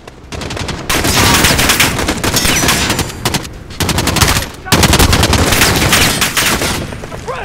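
Machine gun fire in the video game Modern Warfare Remake, loud rapid bursts of automatic gunfire separated by brief pauses, close and dense.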